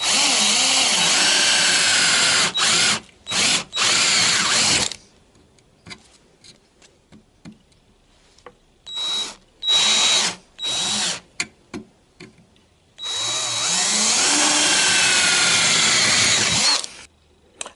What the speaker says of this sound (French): Je perce d'abord avec un forêt de 5 hein,